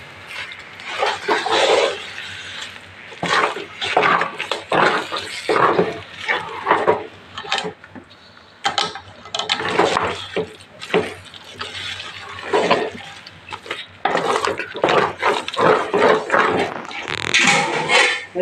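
Rice halwa stirred with jaggery in a pot, a spoon scraping and clinking against the metal in steady bursts of scraping and sloshing, close and fairly loud, with no talk.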